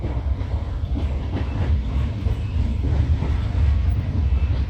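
A passenger train travelling from Vellore to Chennai rolls steadily along the rails, with a loud, continuous low rumble and faint rhythmic clatter heard from on board, free of talk.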